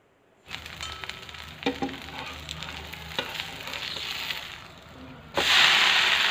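Set dosa batter hits a hot pan and sizzles in a steady, close frying hiss, with a few scraping taps, then a sudden louder burst of sizzle near the end.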